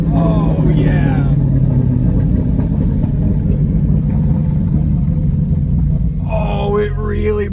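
A Porsche GT4 with a Fabspeed race performance package burbles with a deep, rumbling exhaust, close and loud, while people talk excitedly over it.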